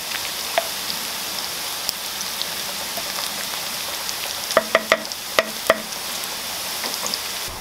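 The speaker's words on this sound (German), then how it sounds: "Und brate den Knoblauch kurz mit an" Garlic frying in olive oil in a pan, a steady close crackling sizzle throughout with a few brief clinks and taps near the end, no voices.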